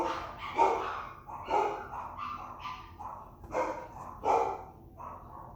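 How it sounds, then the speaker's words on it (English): Several pet dogs bark repeatedly indoors, a string of sharp, moderately loud barks and yips at an irregular rhythm over a steady low background hum, with no talking. "my dogs are barking."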